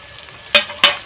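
Chopped onion hitting hot refined oil with a pinch of black cumin in a pan, two short loud sizzling bursts over a faint background hiss.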